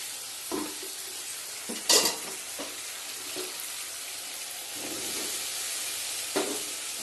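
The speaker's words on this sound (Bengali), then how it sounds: "আলু পোস্ত রান্না হচ্ছে।" Aloo posto cooking in a pan, stirred with a utensil: a steady soft sizzle runs throughout, punctuated by several scraping stir strokes and a sharper clatter near the start, fairly close and alone.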